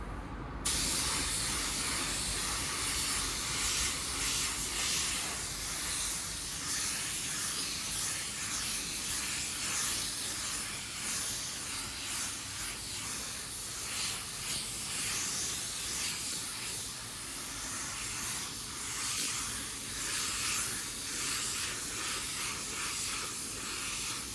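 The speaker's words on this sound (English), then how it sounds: "Let's throw this first coat of clear on" A spray gun lays a first coat of clear coat onto a car bumper, a continuous loud, broad hiss that holds steady for over twenty seconds with slight swells as the passes move.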